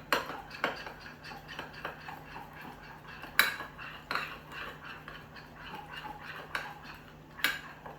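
A utensil clinks and scrapes against a bowl while drunken noodle sauce with sugar is mixed, giving light, irregular metallic taps and stirring, fairly quiet, with a few sharper clinks.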